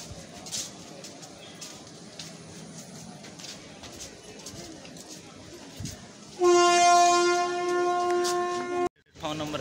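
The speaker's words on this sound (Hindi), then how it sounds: "ट्रेन जा रही, कौन से ट्रेन है मालूम नहीं" An express train passes through a railway station platform in India, a steady rumbling roar that swells, then a loud sustained horn blast cuts in near the end, with voices and station bustle around.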